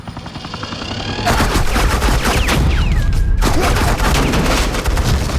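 Suppressing gunfire in a video game: loud, sustained automatic fire with sharp overlapping reports and a brief gap partway through, dense from start to end.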